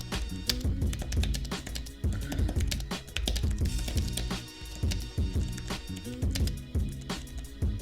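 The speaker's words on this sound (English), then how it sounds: "I'll just do another typing test just to see up close, and it types really fast" Rapid, continuous typing on an iPad Air 2 keyboard, with quick clicky keystrokes in a steady flurry and only brief pauses.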